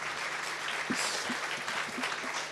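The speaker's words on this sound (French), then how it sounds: "Vous pouvez les applaudir" Conference audience applauding speakers after a circular-economy panel at a trade fair, steady dense clapping throughout the short stretch, moderately loud with a few faint voices mixed in.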